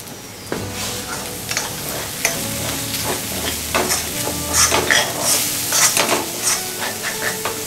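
Salan paste for arvi ka salan sizzles and fries in a pan while being stirred, with a constant close crackle punctuated by repeated scraping and clattering strokes; no one speaks.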